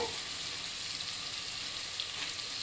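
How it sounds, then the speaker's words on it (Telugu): Turmeric-coated mutton with a little oil fries in a pan, giving an even, dense hiss of sizzling that holds steady at moderate loudness, with no speech. "దీంట్లో ఇప్పుడు ఆయిల్ కొద్దిగా వేసి కొద్దిగా లైట్గా ఫ్రై చేయాలి"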